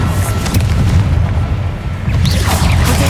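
A Confringo blasting spell explodes in the video game Hogwarts Legacy, a loud, deep booming blast with rumbling debris that stays heavy throughout.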